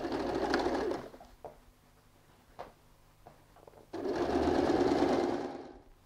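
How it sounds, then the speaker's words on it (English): A sewing machine stitches across the denim panel of a handbag in two close bursts, with a quiet gap of small clicks and fabric handling between the runs. "So we go and sew half an inch stitch just on the denim panel."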